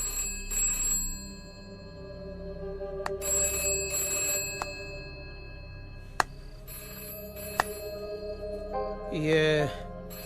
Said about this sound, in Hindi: ये फिर से घंटी बजी।